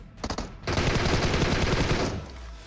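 Sustained automatic M16 rifle fire in PUBG Mobile, a short burst followed by a long continuous rattle of rapid shots that cuts off near the end, loud and close with no talking.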